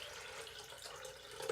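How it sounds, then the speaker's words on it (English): Filtered water pours into a container for homemade juice, a faint, steady trickle with a slightly louder splash at the end. No one talks. "So right now I'm going to be adding in about 2 to 3 cups of filtered water."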